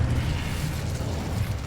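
A short, steady whoosh of the Incendio fire spell from Hogwarts Legacy, with a dense low rumble and roar holding even and loud for under two seconds.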